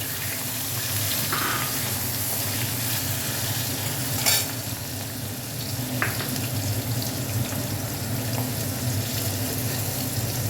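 Onion and nigella seeds fry in hot oil, giving a steady close sizzle with occasional stirring scrapes throughout.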